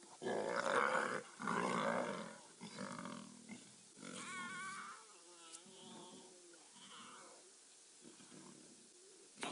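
Lions of a wild pride roar and growl in a safari setting, a series of loud, rough calls at first, then lower moaning grunts trailing off, with no talk over them.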